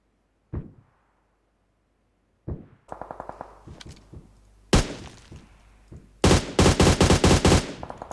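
Gunfire in PUBG Mobile: a couple of isolated shots, then short bursts and rapid automatic volleys building in loudness toward the end, sharp and close.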